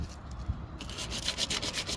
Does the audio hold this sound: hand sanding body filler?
yes